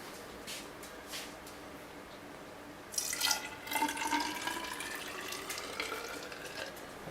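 Water running into a sanitized brew pot for a honey ale, a faint trickle at first and then a fuller splashing pour that continues steadily, close by and alone.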